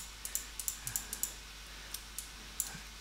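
Sparse computer mouse clicks during Photoshop editing, a dozen or so sharp, light taps in an irregular rhythm, close and quiet over faint room hiss, with no talking.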